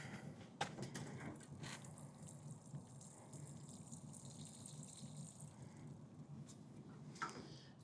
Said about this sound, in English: Let's give it some water right away here.